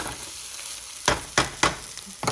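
Eggs and rice frying in a hot pan for a quick Creole breakfast: a steady low sizzle, then three or four sharp bursts of spatter as the eggs are flipped, close and fairly loud.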